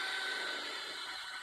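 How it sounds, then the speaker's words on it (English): An electric drill bores a hole in a swimming pool wall for a skimmer, giving a steady, close whirring drone that holds for the whole moment. "So I'll drill my hole over here now"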